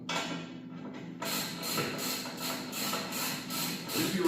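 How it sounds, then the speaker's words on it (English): A socket ratchet snugs down the bolts on a new Spooky Looney Tunes pinball machine, producing a close run of repeated mechanical clicking strokes in a regular rhythm after a brief quieter start, without speech. "Just tighten these two down, or tighten these four bolts down."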